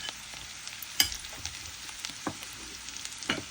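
Chopped green chillies frying with browned onions in a hot pan, a constant close sizzle with sharp crackles and spoon scrapes at irregular moments, with no talking.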